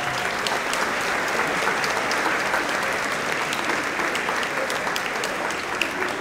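At a high school football banquet, a room full of guests claps steadily for the team and their parents, a loud, even wash of applause with no break.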